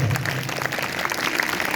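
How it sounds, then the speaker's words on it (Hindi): Applause from a church congregation at a sermon, a brief burst of clapping heard up close with no talk over it. "अगर आए हैं तो जोरदार तालियां बजाएं।"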